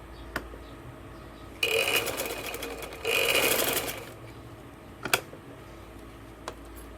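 Sewing machine stitching along the folded edge of a gents kundu-style shalwar in two bursts of rapid, close mechanical whirring, separated by pauses with light clicks.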